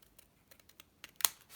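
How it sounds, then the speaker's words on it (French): Scissors snip through paper for a junk journal project, a few soft clicks and rustles building to one sharp, crisp cut close by, with no talking. "Et je coupe ici."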